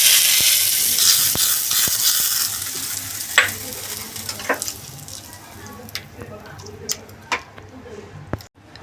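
Spices for tempering sizzle in hot oil in a pan while preparing chutney for farali patties, a bright hiss that fades after the first few seconds, followed by scattered clinks and stirring ticks.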